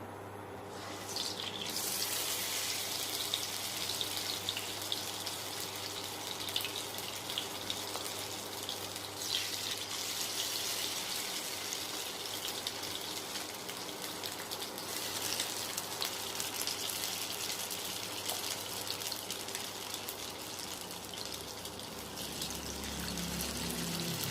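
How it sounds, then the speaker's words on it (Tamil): Fish pieces fry in hot oil in a pan, giving a loud, steady, broadband sizzle that runs without a break for the whole stretch, with no talking. "ஆயில் ஹீட் ஆகிடுச்சு. நம்ம ஒவ்வொரு பீஸாக போட்டுக்கலாம்."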